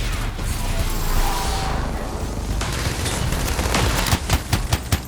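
A very large gun in Anthem lets loose with a mechanical whirring buildup, then a rapid string of heavy, loud shots toward the end, set over game noise.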